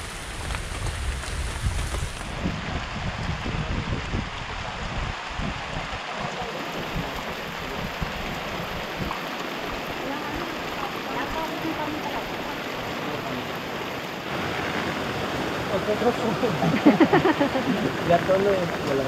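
Rain falls steadily outdoors around a pot of kangkong shoots cooking in coconut-milk broth, a continuous hiss of drops close by with low rumbling underneath, growing a little louder toward the end.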